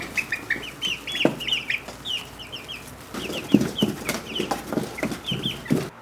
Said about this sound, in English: If you happen to hear baby chickens in the background, there's 6 of them back here.